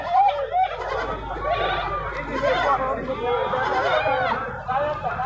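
Black Bengal goats bleat repeatedly amid a busy crowd, with people talking and animal calls overlapping in a noisy outdoor livestock market.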